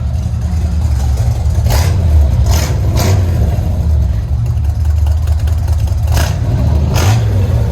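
Loud 1972 Chevy C10 pickup, long bed, with a 350 V8 and Flowmaster Flow FX exhaust, rumbling steadily at close range with several quick throttle blips and revs spread across the stretch.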